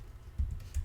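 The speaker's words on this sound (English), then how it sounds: "I type it again" A couple of quick bursts of keystrokes on a computer keyboard, close and fairly loud, as Java event-handling code is entered, with no talking.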